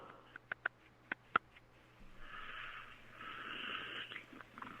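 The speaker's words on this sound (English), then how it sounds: "You can hear him breathing." A man breathes faintly over a thin, band-limited phone line: a few soft sharp clicks first, then a couple of seconds of raspy, wheezy breaths.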